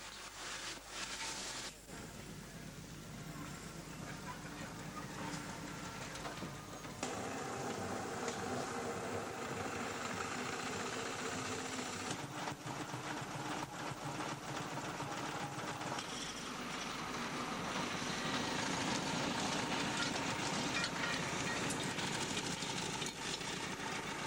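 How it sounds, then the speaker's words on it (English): Traction engines running at a rally on the Isle of Wight make a continuous mechanical rumble and chuff with clanking and hiss, steady and fairly loud throughout, with faint voices in the background. "Today, there's also a traction engine rally on the site."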